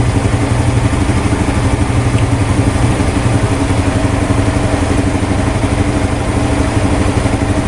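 A Yamaha R15 motorcycle engine idles steadily nearby, a loud, even putter with a rapid regular pulse throughout and no talk.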